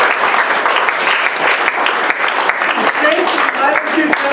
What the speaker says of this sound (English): let's give a round of applause to the families and the wives